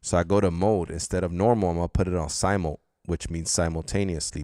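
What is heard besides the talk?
None of the usual background noises is heard.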